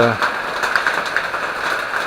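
Rain falls steadily at the start of the rainy season on Madeira, a dense, even hiss with a few brighter patters, fairly close and continuous throughout.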